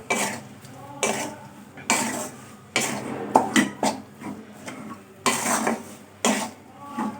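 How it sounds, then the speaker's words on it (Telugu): Potato curry filling for samosas is stirred in a pan, with repeated bursts of a utensil scraping and clanking against the metal and short quiet pauses between strokes. "ఒకసారి బాగా తిప్పుకొని స్టవ్ ఆఫ్ చేసుకుంటే కర్రీ ప్రిపేర్ అయిపోతుంది సమోసాకి."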